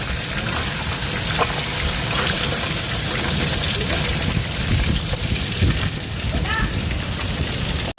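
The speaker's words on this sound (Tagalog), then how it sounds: "sinabot kami ng malakas na ulan" Heavy rain pours steadily, a dense hiss and patter on surfaces that holds at a constant, loud level throughout.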